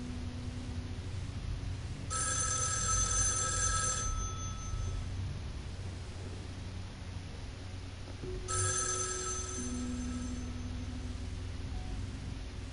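Telephone ringing in the FMV video game Erica: two loud electronic ring bursts about two seconds long each, separated by a pause, over a low steady background hum.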